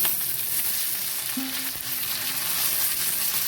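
Chopped tomato dropped into a pan of frying garlic, onion and green chili, giving a continuous loud, close sizzle with a brief tonal scrape in the middle and no voices.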